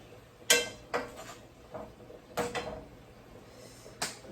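Spoon stirring seasoning into stewed beef in a pot, a handful of sharp scraping knocks against the pot spaced irregularly over a few seconds, close and moderately quiet with no talking.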